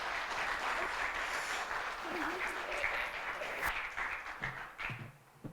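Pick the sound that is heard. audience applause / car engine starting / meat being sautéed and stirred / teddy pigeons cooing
audience applause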